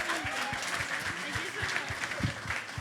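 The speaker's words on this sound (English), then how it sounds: "Big round of applause for Bronte, everybody." An audience claps for a panelist at a creative-industry talk, a moderate patter with some sharper claps standing out near the front, continuing steadily for a few seconds.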